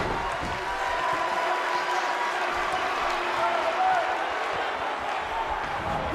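A wrestling arena crowd in Orlando cheers and applauds steadily throughout a match, a dense, continuous roar of many voices and clapping at a moderate distance.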